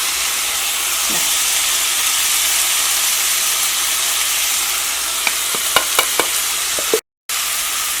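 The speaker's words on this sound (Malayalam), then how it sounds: "ഇതെല്ലാം കൂടിയിട്ട് നന്നായിട്ട് മിക്സ് ചെയ്യാം" Ground masala stirred into a mixture in a frying pan makes a loud, steady sizzling hiss, with a cluster of sharp spoon scrapes and taps toward the end before a brief dropout.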